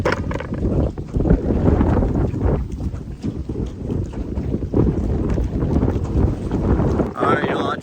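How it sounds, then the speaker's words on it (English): Heavy wind buffets the microphone on a small fishing boat out on open water, a loud continuous roar with gusty thumps lasting throughout, and a voice talking underneath. "I am just getting hammered in the wind here"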